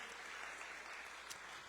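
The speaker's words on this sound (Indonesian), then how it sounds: "kita kasih tepuk tangan untuk mereka yang bekerja keras" Applause for volunteers at a Sunday church service: faint, distant clapping from a crowd, a soft continuous patter under room noise.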